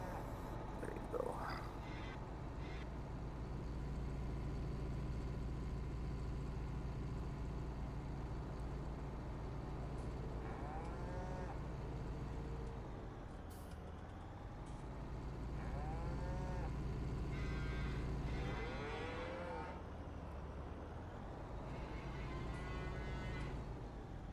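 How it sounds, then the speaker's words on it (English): Cows mooing in Farming Simulator 19 on the Walchen map: repeated drawn-out moos rise and fall over a steady low engine-like drone, with several calls spread across the stretch and no talking. "Wow, these cows moo a lot."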